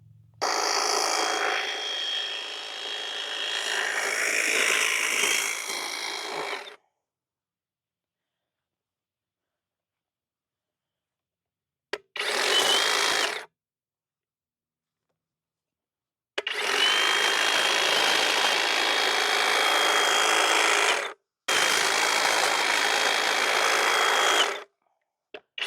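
An EGO cordless hedge trimmer cuts through a three-year-old privet hedge, its buzzing blades running loud and close in long sustained bursts separated by silent pauses and one short burst.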